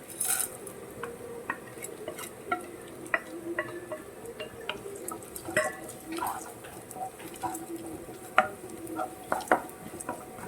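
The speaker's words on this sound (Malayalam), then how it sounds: "പൊട്ടുകടലയൊക്കെ നല്ലവണ്ണം ഫ്രൈ ആകണം" Roasted gram (pottukadala) frying in a pan for rava uppumavu, with a spoon scraping and clinking against the metal over a soft continuous sizzle, irregular stirring strokes throughout, close and moderately quiet.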